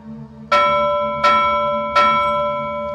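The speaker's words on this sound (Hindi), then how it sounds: "बंद कर घंटी बजाना" A bell rings three times at an even, unhurried pace, each loud clang leaving a long ringing decay that carries into the next strike.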